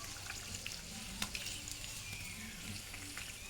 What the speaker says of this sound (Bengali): এটাকে একটু ভালোভাবে ভেজে নিতে হবে। এটা একটু লাল লাল করে ভাজতে হবে